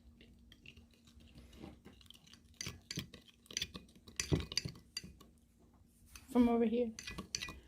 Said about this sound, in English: Now we're going to mix this using a spoon.